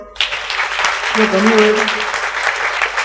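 A seated audience at a religious discourse breaks into applause, a sudden, full burst of many hands clapping that holds steadily to the end, with a brief voice at the start.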